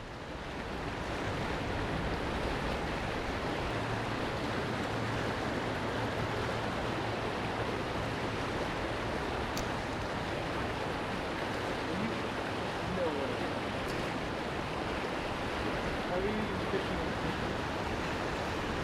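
Fast-flowing river water in the Colorado Rockies during a fly fishing trip rushes in a loud, steady broadband roar, close to the microphone, with a faint voice murmuring beneath it.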